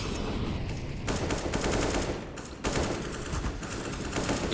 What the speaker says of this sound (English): AK's popping away on the A ramp so far.